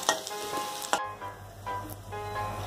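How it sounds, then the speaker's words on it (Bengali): Potatoes frying in oil in a pan sizzle steadily up close, broken by a few sharp spatters and stirring scrapes, with a faint tonal hum under the later part and no speech. "আলুটা আমার লাল করে ভাজা হয়ে গিয়েছে।"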